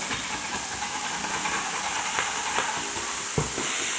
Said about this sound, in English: I flip it, push down as hard as I can, and just scrape it off